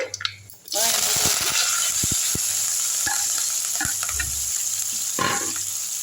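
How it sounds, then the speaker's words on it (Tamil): Onions, green chilli, curry leaves and garlic are sautéed in hot oil with already popped mustard seeds, making a loud, continuous close sizzle with repeated stirring scrapes and taps of a spoon against the pan. "வெங்காயம் நல்லா சாஃப்டாகிற அளவுக்கு நல்லா வதக்கி விட்டுருங்க"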